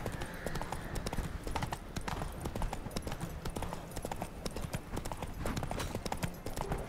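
A horse's hooves clip-clop steadily while being ridden in The Witcher 3 video game. The footfalls are even and rhythmic against a soft ambient background.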